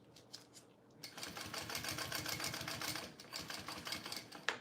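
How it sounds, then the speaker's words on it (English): A sewing machine runs steadily as two fabric layers are top stitched for a small bowler bag, a close, fast rhythmic clatter after a few brief taps, faint overall with no talk. "So I'm just top stitching as I'm pulling those 2 layers out."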